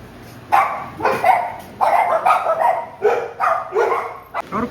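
Dogs in a Konkan village around Dodamarg bark in a rapid series of loud, close barks, with some yips between them and people talking underneath.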